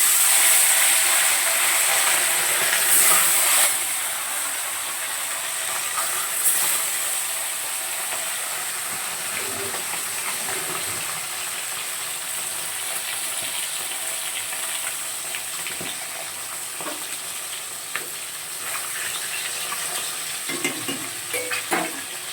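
Fish frying in hot oil in a wok gives a steady, close, loud sizzle and hiss that runs through the whole stretch, with occasional stirring scrapes and no talk.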